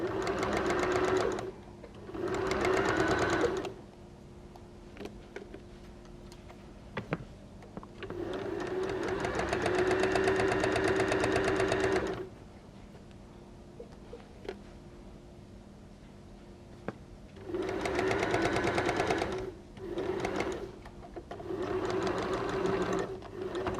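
A sewing machine stitches around a fabric scrunchie in several bursts of rapid, buzzing running, each lasting a few seconds, separated by quiet pauses with small clicks and handling noises; close and clear with no talking.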